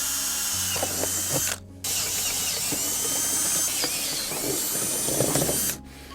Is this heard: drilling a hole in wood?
yes